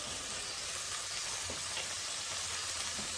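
Boiled, cut tomato pieces fry in a pan while being stirred, giving a steady close sizzle throughout with faint scraping under it and no talking.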